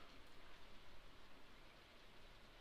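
Steady rain falls in Stardew Valley as a faint, even hiss of drops with no other sound over it.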